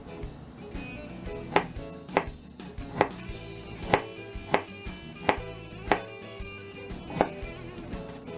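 A knife chops ginger on a cutting board in about ten sharp, distinct strokes at a steady, unhurried pace, close and clear, with no talking.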